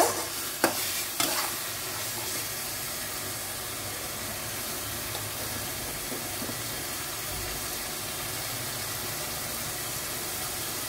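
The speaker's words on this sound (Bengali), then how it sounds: "এগুলো এখন একটু কষাবো। মশলাটা একদম কষানো হয়ে গেছে।" Spice masala being sautéed for a pork curry, heard as a steady, soft frying hiss that runs on evenly throughout, with a few faint knocks near the start and no talking.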